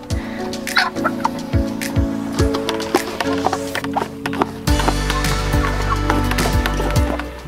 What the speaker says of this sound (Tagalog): Nagpapakain ng mga alagang manok, oh.